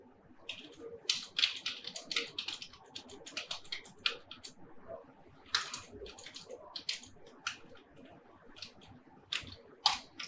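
Fingers typing random numbers on a computer keyboard, with quiet, irregular bursts of key clicks in short clusters and pauses between them, heard close up with no talking.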